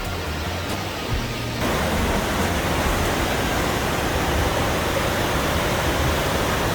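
Steady, dense rush of the lower Niagara River current at a fishing spot, a constant broadband roar of moving water heard close and uninterrupted, with no voices over it.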